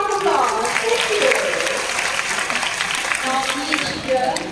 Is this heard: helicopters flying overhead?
no